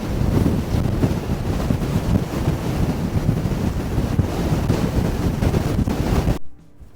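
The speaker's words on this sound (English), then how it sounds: "I think the wind's pretty strong for talking." Strong wind buffets the microphone on an exposed Shetland coastline with fulmars nearby, a loud, continuous rumbling roar that holds steady for several seconds before cutting off abruptly near the end.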